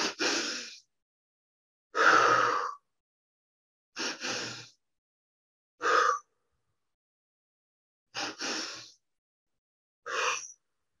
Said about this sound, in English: 2 inhales through the nose and 1 exhale through the mouth